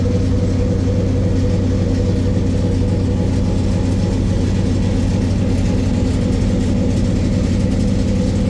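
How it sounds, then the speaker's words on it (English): Submarine engines running inside the vessel, a loud continuous low droning hum with steady tonal layers, unbroken throughout and with no talk. "you can hear those engines of what it'd have been like"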